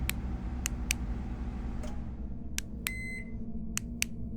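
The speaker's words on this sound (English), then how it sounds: "What's that beep?" Sharp isolated electronic beeps and ticks from a device in the horror game Thoughtform Invasion, irregularly spaced over a low droning hum, one longer tonal chirp among them, fairly faint.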